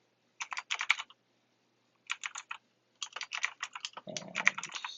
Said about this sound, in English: I'm just typing in example address